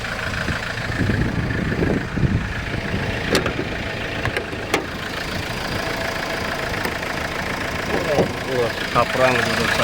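Idling car engine heard close and steady with a low rumble, overlaid by a few brief clicks and other background noise.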